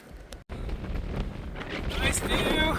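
Wind gusting across a mountain trail with snow nearby, a steady rushing roar buffeting the microphone close-up, building slightly toward the end after a brief dropout.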